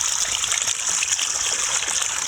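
Water pours steadily from a village water system outlet in Afghanistan, giving a loud, continuous splashing gush close by with no voices.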